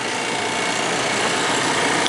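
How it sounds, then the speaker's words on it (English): A vacuum pump runs while pulling vacuum on a ductless AC unit during a store installation, giving a steady, unbroken mechanical hum and whine close by, with no voices. "We're pulling vacuum on the unit."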